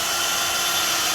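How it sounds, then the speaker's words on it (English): A power drill bores a small pilot hole in the steel underbody of a 2016 Volvo XC90 while a Curt trailer hitch receiver is being fitted, a steady, loud, high-pitched whine that holds unbroken throughout. "I'm going to drill a pilot hole on the locations that I marked"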